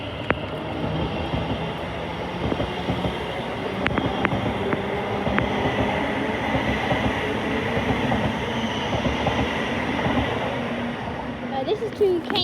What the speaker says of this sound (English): So this is now departing